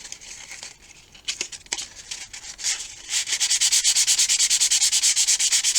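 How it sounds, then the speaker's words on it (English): Wood filler on a model rocket is sanded by hand with 220 grit sandpaper, beginning as irregular light scratches and settling into quick, regular back-and-forth strokes, close and steady. "And I'm still using the 220 grit, and we're just going to sand down"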